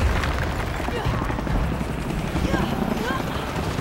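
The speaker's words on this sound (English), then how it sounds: "More helicopters." Helicopters in the Shadow of the Tomb Raider video game, a continuous heavy rotor rumble and thumping mixed with loud game effects and overlapping voices throughout.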